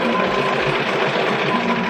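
A sewing machine with a dual feed foot stitches a quilt seam, giving a steady, close, continuous mechanical whirr with a faint vibrating hum.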